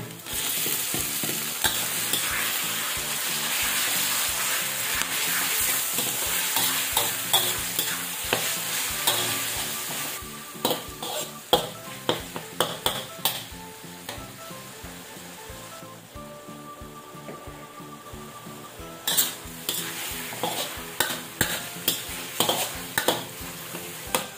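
Marinated beef fries in a hot pan, a loud continuous sizzle punctuated by repeated sharp scrapes and clinks of a utensil stirring against the pan, growing more intermittent toward the end.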